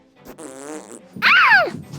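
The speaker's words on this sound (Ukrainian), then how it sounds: "Коли ти пукнув, треба казати перепрошую." A loud, squeaky fart from a children's toy play scene, a short buzzy burst followed by a rising and falling squeal, heard alone.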